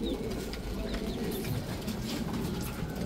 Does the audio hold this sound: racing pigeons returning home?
yes